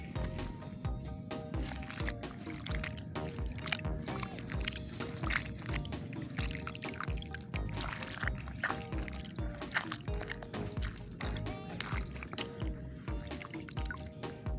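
Chopped banana heart is washed with water, giving continuous splashing, sloshing and dripping up close for the whole stretch, steady and fairly loud with no talk.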